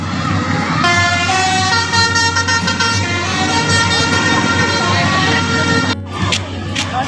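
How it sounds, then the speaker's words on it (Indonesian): A Mahendra Transport bus passes at the Adiwarna toll exit, sounding a loud, sustained musical multi-tone horn over its engine roar, close and dominant for several seconds before cutting off abruptly. "akhirnya bis yang kita tunggu sama-sama Mahendra Transport melintas di exit tol Adiwarna"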